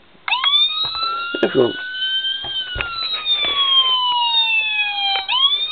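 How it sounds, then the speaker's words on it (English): A custom 1:24 scale Bay County Sheriff Crown Victoria model car sounds its electronic siren, a loud, near wail that sweeps slowly up and down in pitch for several seconds, with brief talk and clicks over it. "Hit one of the sirens. Sirens are identical."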